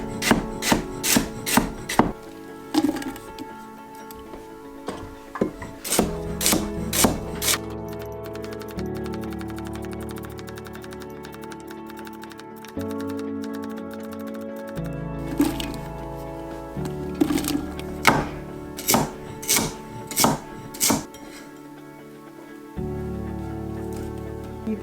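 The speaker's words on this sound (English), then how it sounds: "After quite a bit of chopping" Sharp knife strokes chop vegetables on a cutting board in a garden kitchen, batch cooking for a big pot, coming in quick rhythmic bursts of rapid taps separated by pauses and softer scraping.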